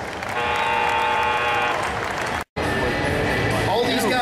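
Arena audience applauds strongman Terry Hollins at the Arnold Strongman competition, loud sustained clapping and cheering under an announcer's voice, broken by one brief cut of silence before the noise resumes.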